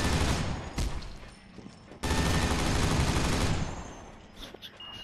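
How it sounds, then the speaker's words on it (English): Fully automatic gun in a video game fires in dense sustained bursts, one short burst near the start and a longer loud stream in the middle that then tapers off, with no talking. "See how quick this gun is though? It's fully automatic, so it'll go faster."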